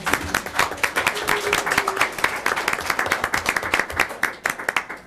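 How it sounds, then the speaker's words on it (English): Steady applause from attendees at a school board meeting, many hands clapping close and brisk for about five seconds, dense and even without pause. "a round of applause"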